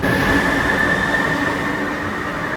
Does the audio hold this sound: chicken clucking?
no